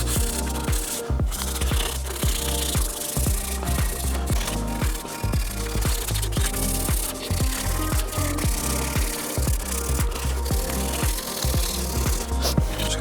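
Hand-sanding a one-off C8 Corvette exhaust with 400 grit sandpaper, a steady rhythmic rubbing scrape repeating in quick back-and-forth strokes, close and fairly loud throughout with no talking.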